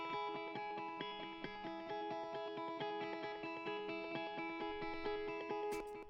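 Sustained electric guitar chords ring with a repeating delay effect with feedback set to 30%, echoes stacking into a dense, shimmering texture that holds steady throughout.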